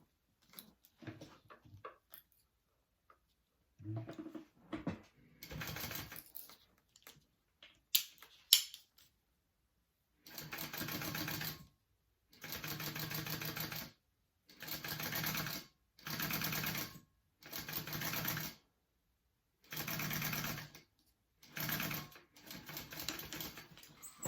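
A sewing machine bastes a zipper onto a tote bag panel in short bursts of rapid stitching separated by pauses, close and fairly quiet, with scattered clicks and fabric handling between runs.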